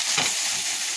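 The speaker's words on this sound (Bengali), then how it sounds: "এবার সিদ্ধ করা সবজিটা ভিতরে দিয়ে দেবো" Boiled vegetables go into browned onions and mustard oil in a wok, a loud steady sizzle and hiss with a brief stirring scrape near the start.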